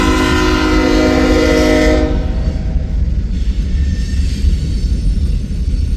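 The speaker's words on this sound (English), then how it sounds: "Train heading back north up to Sioux City" A loud freight train rumbles past close by, a horn blast ringing out over the first two seconds before the heavy rolling rumble of empty ethanol tank cars continues steadily.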